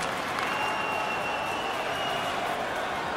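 Broad, continuous crowd roar and applause at an NHL 22 hockey game after a save, a steady, enveloping wash of noise with a faint whistle-like tone running through it.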